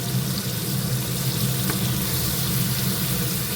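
Paneer frying in a pan with ghee, a steady close sizzle and crackle that holds even and loud throughout, no voices.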